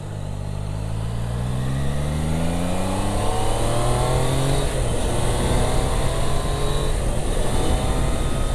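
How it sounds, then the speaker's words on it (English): Triumph Daytona 660 motorcycle engine accelerating hard on an open road, its rising tone climbing steadily through the gears in a loud, continuous run with heavy wind rush and no talking. "Look at that, lovely engine, lovely acceleration."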